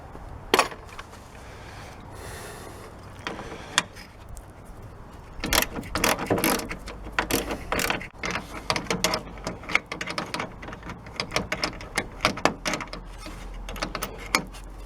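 A ratchet wrench works a 10mm bolt out of a Tahoe bumper with quick, close clicking bursts of varying speed, broken by short pauses and a few louder knocks.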